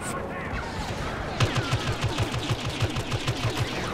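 Rapid automatic gunfire in the Star Wars Battlefront video game, a steady run of sharp repeated shots starting partway through and continuing loud to the end over a busy battle backdrop.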